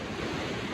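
A swollen river runs high against a wall during a water release, making a steady broadband rush of water that stays constant and moderately loud, with no voices.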